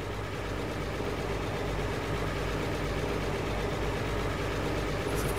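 A farm tractor pulling a fertilizer spreader in Farming Simulator 22 runs with a steady low engine drone, constant and even throughout, with no talk.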